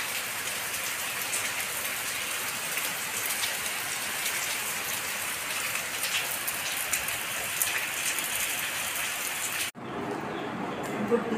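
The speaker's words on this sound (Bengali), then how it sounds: "কি পরিমাণ বৃষ্টি হচ্ছে একবার দেখুন।" Heavy morning rain pours down steadily, a dense, loud hiss of drops on surfaces that continues unbroken, with a brief dip and faint voice near the end.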